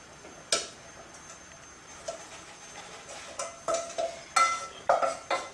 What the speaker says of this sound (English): Just drain the mince.